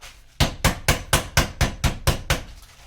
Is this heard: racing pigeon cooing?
no